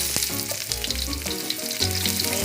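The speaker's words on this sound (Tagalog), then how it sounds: "and then add the onions" Onions sizzle in a hot pan for chicken pastel, a dense close hiss with some clinks and faint tonal background sounds, and no speech over it.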